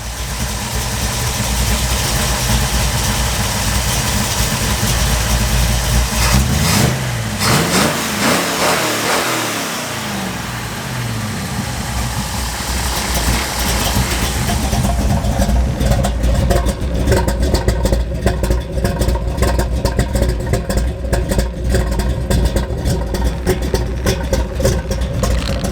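A Ford F100 pickup's 351 V8 rumbles at a steady idle, dips, then is blipped through repeated sharp revs in the second half, close and loud with no talking.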